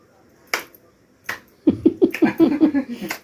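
A couple of sharp hand claps at home, spaced apart, followed by a child's and adults' voices talking and laughing close by.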